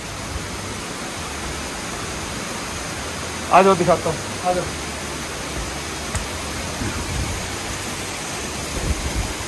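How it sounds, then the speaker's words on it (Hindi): Steady broadband rush of a waterfall pouring onto a Shiva lingam at the Anjani Mahadev temple in Solang Valley, continuous and close, with a man briefly calling out over it. "झरने से पानी आ रहा है शिवलिंग के ऊपर"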